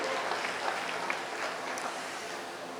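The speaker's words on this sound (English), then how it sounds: "Let's give these young people a nice round of applause for their efforts today" Spectators at the Allen County 4-H sheep show give the young exhibitors a round of applause, an even, moderately quiet patter of many hands clapping for about three seconds with little else audible.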